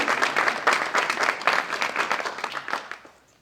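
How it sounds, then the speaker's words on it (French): An audience at a municipal election campaign meeting applauds, a brisk burst of many clapping hands that holds strong for a few seconds and then fades away. "que je vous demande d'applaudir"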